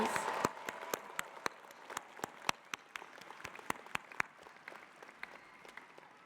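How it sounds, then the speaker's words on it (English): Sparse, distinct handclaps at a bachelor's degree graduation ceremony, a few people clapping in an uneven rhythm that thins out toward the end. "let us give a round of applause to our family and loved ones today"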